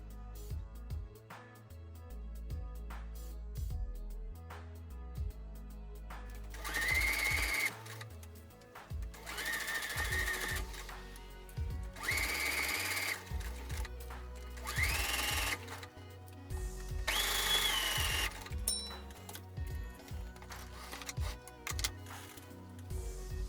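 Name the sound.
sewing machine stitching wedding dress layers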